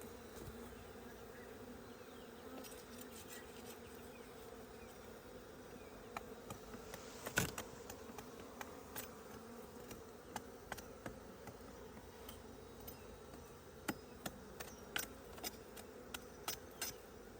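Bees buzz steadily and densely around a hive in a tree trunk during a rescue, with a few louder close passes and light ticking knocks.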